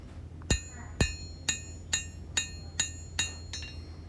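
A hammer strikes high carbon steel for a small knife blade, eight sharp ringing blows at an even half-second rhythm, close and clear, each leaving a short metallic ring.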